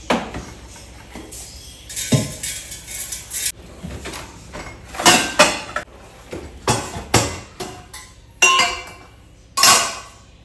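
Intestines being cut into pieces with a knife in a home kitchen: a steady run of sharp chops and clattering knocks against a board or dish, close and fairly loud, with no voices.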